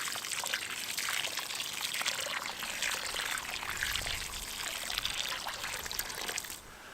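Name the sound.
watering a newly planted tree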